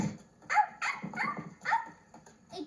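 Small dog barking in a few quick, moderately loud yips and barks with short whines between them, close by and with no talk over it.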